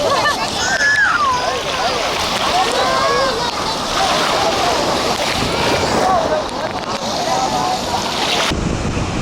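Waves wash in and break on Kovalam Beach near Chennai amid strong wind buffeting the microphone, with a person talking over the surf.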